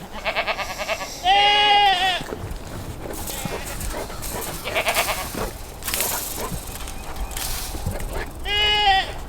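Pet goats on a home property bleating loudly in two close, wavering cries at the start and end, with a dog and a person's voice mixed in between.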